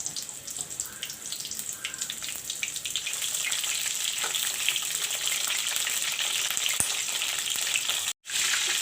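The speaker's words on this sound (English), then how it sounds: "Now I will fry the parval and the potato first and take it out and keep it aside." Parval (pointed gourd) and potato pieces fry in hot oil in a pan, giving a close, continuous sizzle that grows fuller partway through, with a brief cut near the end and no talking.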